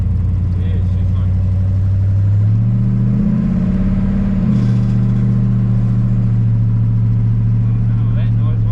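A Chevy 350 small-block V8 in a 1946 pickup idles with a loud, steady rumble, then revs up and eases back down to idle, with talk over the engine.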